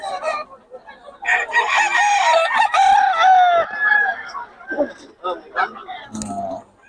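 Young gamecock stag roosters at a market crow and cluck nearby, with a loud drawn-out crow in the middle and scattered clucks around it, while someone talks over them.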